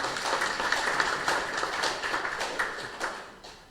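An audience claps at a farmers' organisation event, light scattered applause that stays fairly soft and fades toward the end.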